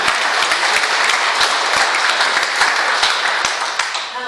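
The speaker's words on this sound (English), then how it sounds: "Let's give her a round of applause." Steady applause from a crowd at a political group meeting, dense clapping throughout at a consistent loud level, tapering slightly near the end.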